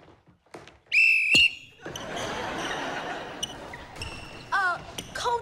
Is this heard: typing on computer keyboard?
no